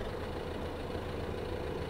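A Fendt 933 Vario tractor idles in Farming Simulator 15, producing a steady, low engine drone at moderate level that stays even throughout.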